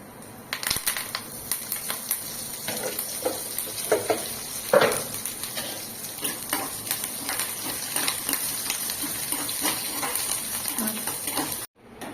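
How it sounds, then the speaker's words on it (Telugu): Dried red chillies, curry leaves and tempering spices sizzle in hot oil for a chutney tempering, a steady crackling fry with scattered pops and stirring clinks throughout, cutting off sharply at the end. "చట్నీ తాలింపు వేసుకుంటున్నాం."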